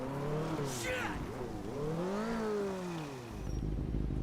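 A motorbike engine in GTA 5 revs up and down in smooth rising and falling sweeps, close and prominent, easing off before a low rumble at the end.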